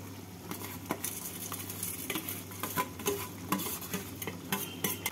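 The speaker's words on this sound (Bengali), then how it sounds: "থোড় দিয়ে নাড়াচাড়া করে নিয়ে এবার এর মধ্যে আমি দিয়ে দিচ্ছি ভেজে রাখা চাল" A utensil stirs banana stem with fried Gobindobhog rice in a sizzling pan, giving repeated scraping strokes over a steady low frying hiss.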